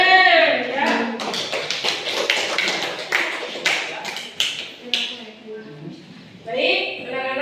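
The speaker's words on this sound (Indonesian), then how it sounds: "Tepuk tangan ya." A school class clapping in a classroom; a burst of quick, overlapping claps in the middle stretch, fairly close, with a teacher's voice talking before and after.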